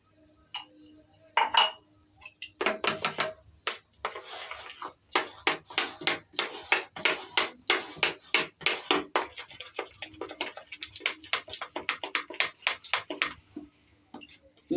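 A spoon taps and clatters rhythmically against a bowl while mixing green bread pakora batter with cornflour and salt, a long run of quick, close clinks in steady bursts.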